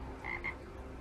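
A frog gives two short croaks in quick succession, moderately close against a faint steady background hum, with no voices.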